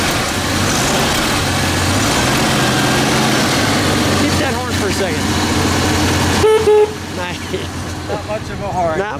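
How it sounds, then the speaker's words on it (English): A 1977 AMC Hornet AMX idles with its straight six rumbling close by, then its weak horn gives a couple of short toots near the end while people talk. "We'll beep that horn."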